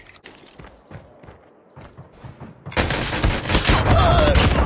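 A pistol-only video game match: quiet clicks and faint footsteps give way to a dense burst of loud, rapid gunfire and impacts filling the final couple of seconds.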